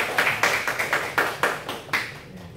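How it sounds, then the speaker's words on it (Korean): A Sunday-worship church congregation claps in thanks for its Sunday school teachers: a loose run of about ten crisp, evenly spaced claps, fairly close and moderate in level, with no talking. "감사의 박수 보내도록 하겠습니다."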